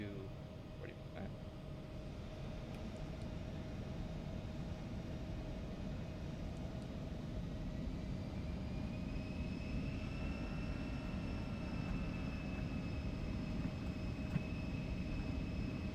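Embraer E175 jet engines in X-Plane 12 spooling up at takeoff throttle on the runway, a steady low roar with rising whining tones that swell gradually and stay even throughout.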